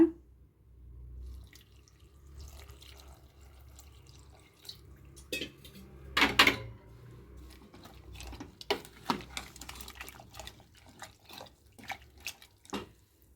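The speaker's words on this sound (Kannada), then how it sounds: "ನೀರು ಹಾಕ್ತಾಯಿದ್ದೀನಿ." Water is poured into a cooking pot of black-eyed pea curry (alasande kalu saaru), with soft splashes and scattered drips, plus one brief louder gush partway through. The kitchen is otherwise quiet.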